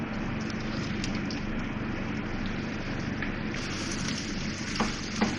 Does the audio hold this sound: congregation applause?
no